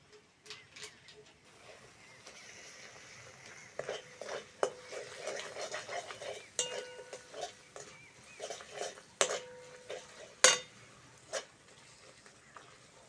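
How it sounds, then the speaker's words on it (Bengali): Spice masala for Bengali egg curry being stirred and sautéed in a pan, with intermittent sharp scrapes and clinks of a spatula against metal over a faint background sizzle, quiet and close. "মশলাটা ভালো করে কষে নেব"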